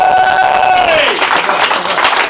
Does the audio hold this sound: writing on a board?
no